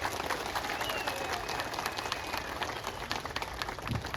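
Steady applause from a crowd at a BJP political rally, a dense continuous patter of clapping that holds evenly throughout.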